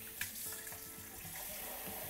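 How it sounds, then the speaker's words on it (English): Warm water runs from a kitchen tap while Greek lagana flatbread dough is being made, a steady, fairly quiet trickle and splash continuing throughout with no talking. "Put your warm water over there, pour a little bit of it in there"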